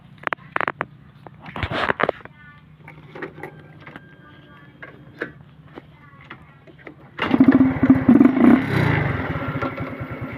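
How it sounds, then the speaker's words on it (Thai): A Honda Wave 110i motorcycle with a 52.4 mm piston: scattered clattering first, then the engine catches and settles into a loud, steady, close idle for the final few seconds. "เดี๋ยวคราวนี้ผมจะสตาร์ทเครื่องให้ฟังครับผมฟังเสียงครับ"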